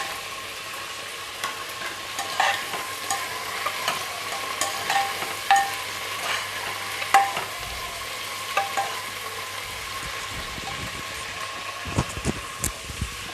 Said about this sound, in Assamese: লগতে দিছোঁ এটা আলু এটা মই 4ফাল কৰি কাটি থৈছিলোঁ।